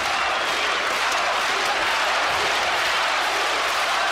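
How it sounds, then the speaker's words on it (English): Boxing crowd at a professional bout applauds and cheers steadily, a dense wash of clapping and crowd noise throughout. "Crowd getting behind Arthur Abraham"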